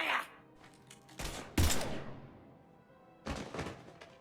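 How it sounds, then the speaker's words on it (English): Gunfire in the Mass Effect 3 video game, a few sharp, loud shot bursts with decaying tails spaced over a few seconds, standing out against quiet game ambience. "Now open fire!"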